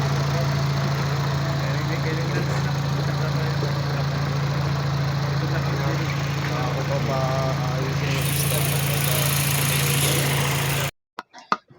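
A first-generation Toyota Vios engine idles roughly and shakes, giving a constant low drone with a steady hum underneath, while voices talk over it before the sound cuts off.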